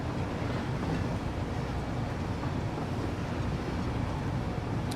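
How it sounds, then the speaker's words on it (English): A train running in Satisfactory, a continuous broadband rumble and roar that holds steady and fairly loud throughout, with no talking. "So this train will be a little slow for now because there is no quicker turnaround."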